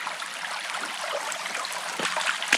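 Steady rushing and trickling water from a nearby creek, continuous and broadband, with a few brief brighter splashes near the end.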